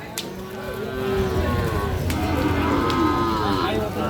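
A Sahiwal bull calf at a rainy, muddy cattle market gives a couple of drawn-out moos over a low background murmur, fairly close.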